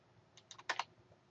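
A handful of quick keystrokes tap on a computer keyboard while a command is entered during a Linux setup, faint and close, with irregular clicks bunched in the middle and no voices.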